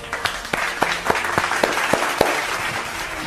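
Applause at a humorous smartphone awards show, several distinct claps in an uneven rhythm over a diffuse, hollow room wash, moderately loud and fading toward the end.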